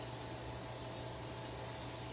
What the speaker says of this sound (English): we want to spray this dish because we don't want to scrape this later